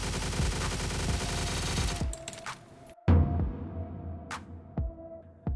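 Automatic fire from an SA-58 rifle in the shooter game Stalcraft: a sustained rattling burst for two seconds, a brief stop, then a heavy shot followed by a few spaced single reports.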